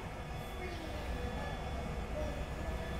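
A London Underground Bakerloo Line train of 1972 Mk 2 stock, carriage 3556, runs through the tunnel with a steady, dense rumble and roar from the wheels and motors, heard from inside the carriage.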